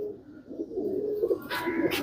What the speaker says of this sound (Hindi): ये सब परकेंच कबूतर हैं जोड़ों के अंदर